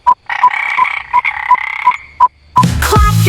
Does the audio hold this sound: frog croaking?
yes